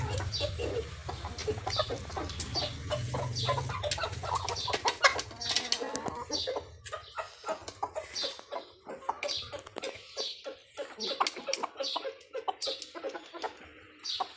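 Chickens and a rooster clucking in rapid, close bursts over low rumbling background noise, with the calls growing sparser and choppier toward the end.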